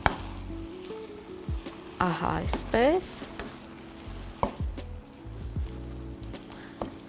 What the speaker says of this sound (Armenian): Մեզ պետք է մեկ փայտե գթալ, որպեսզի փորձենք այս աղացած միսը առանձնացնել